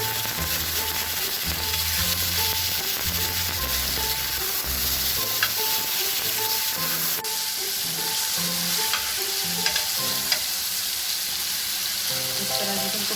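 Chicken frying and sizzling in a hot tawa pan for tawa chicken, a steady close hiss with a few faint stirring clinks and scrapes throughout, no voices.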